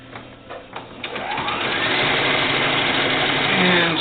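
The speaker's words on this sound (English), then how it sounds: "And sew all the way to the end." A sewing machine stitches doll bloomers, its motor starting with a few short bursts then running in one steady, loud continuous whir to the end.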